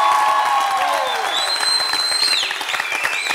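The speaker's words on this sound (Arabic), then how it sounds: "نحبكم تصفقوا عليها تصفيقة قوية برشا" A studio audience applauds an eight-year-old girl's song with a loud, dense clapping wash, joined by whoops and whistle-like cries that fade slightly toward the end.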